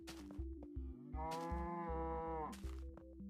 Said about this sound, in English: You mooed your last moo.